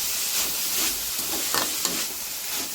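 A banana blossom mixture with salt stirred in a pan, a continuous sizzling hiss with soft scraping strokes throughout.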